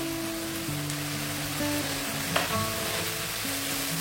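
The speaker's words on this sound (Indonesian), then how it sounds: "Nah ini kita aduk-aduk supaya gulanya larut" Loud, steady sizzling of sambal with anchovies and peanuts frying in a pan over high heat, with scraping as it is stirred to dissolve the sugar.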